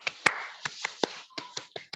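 A single person doing the Indonesian Scout clap, tepuk pramuka: about ten crisp, close hand claps and taps in a quick syncopated rhythm, alone in a quiet room.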